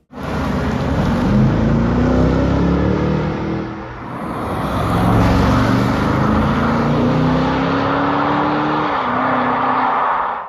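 A BMW V8 engine revs up and settles, then climbs again in a long rising pull, loud and rumbling with no voices.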